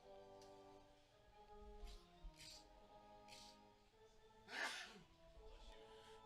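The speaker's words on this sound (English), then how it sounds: "And that sneeze was brought to you by our official scorer" A single sharp sneeze bursts out over quiet baseball game commentary, with faint rustling and soft breathy sounds before and after.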